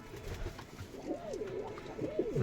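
Giribaz pigeons from Rajshahi give soft, rolling coos close by, several repeated calls over a low background murmur.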